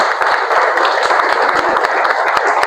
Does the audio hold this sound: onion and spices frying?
no